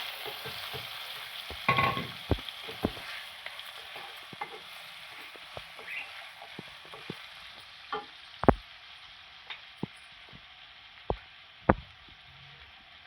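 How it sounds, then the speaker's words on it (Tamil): Chicken and onions fry in a pan, a steady soft sizzle with scattered sharp clicks and taps of a utensil against the pan, close and fairly quiet, with no talking. "இப்போ வந்து நம்ம சிக்கன் வந்து இதில் வந்து போட்டுடலாம்."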